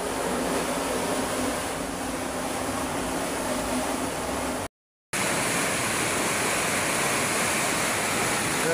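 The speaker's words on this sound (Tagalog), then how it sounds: "Ganito kalakas ang ilog sa likod ng bahay namin." A strong river rushing behind a house during a super typhoon, a loud, steady broadband roar of fast water that continues throughout apart from a brief cut.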